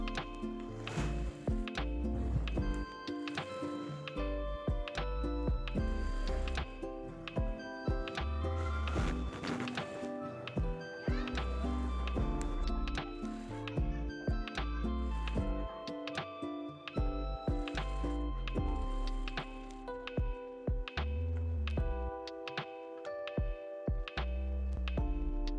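A sewing machine stitches the neckline of a round Bangla-style dress, running steadily and close for the whole stretch with a dense mechanical whir and rhythmic ticking.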